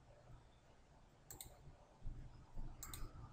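A computer mouse gives two quick double-clicks during work in SolidWorks CAD software, sharp and faint, spaced over a second apart above a low background hum.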